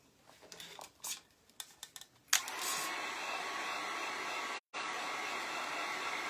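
A hair dryer switches on and blows with a steady, loud whooshing hum, briefly cutting out for a moment, after a few scattered taps and rustles.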